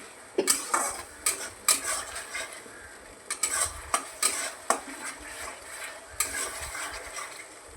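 A spice mixture is stirred in a hot pan before fish goes in, with repeated sharp scrapes and clinks of a utensil against metal over a low sizzle; close, irregular strokes, no speech.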